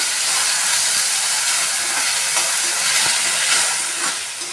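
Onions cooking in hot oil for a Malvani-style Konkan wet cashew vegetable, giving a steady, loud broadband hiss and sizzle throughout with faint crackles, no voices.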